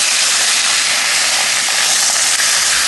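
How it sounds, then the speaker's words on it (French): Burger steaks searing in freshly added oil in a pan, a loud, dense, continuous hiss filling the whole stretch at close range, with no talking. "Je remets un peu d'huile et ben maintenant c'est la cuisson des steaks."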